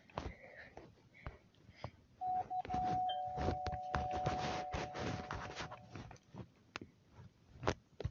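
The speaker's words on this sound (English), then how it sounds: "I'm gonna ring the doorbell." A doorbell rings inside a Roblox game, a faint chime tone sustained for a few seconds amid clicks, thumps and scattered game noises at low volume.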